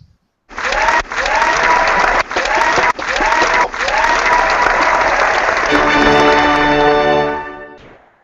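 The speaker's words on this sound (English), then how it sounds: "Round of applause for Mr. Tomlinson." Loud, sustained audience applause on a tech show's Thanksgiving special, many hands clapping densely for about seven seconds with brief dips, a tonal ringing layered in toward the end, then fading out.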